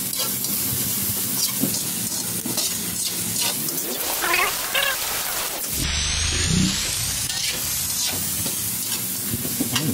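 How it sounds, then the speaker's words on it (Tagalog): Onions, garlic and ginger stir-fried in a pan, with a steady close sizzle and scraping stirring strokes, and a brief hissing burst partway through. "Mekos-mekos lang natin."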